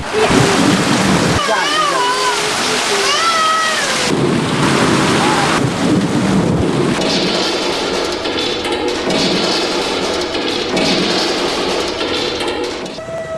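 Steady heavy rain with rumbling thunder runs loud and continuous throughout, with a voice talking over it in parts.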